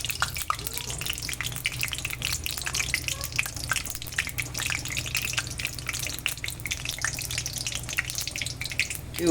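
Cumin seeds crackling in hot oil in a kadai, a steady dense fizz and sputter with a low hum underneath, close and continuous throughout.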